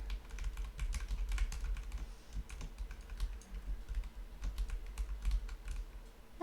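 Fast, uneven typing on a computer keyboard during a game development session, crisp key clicks rattling close and fairly quiet over a low background hum.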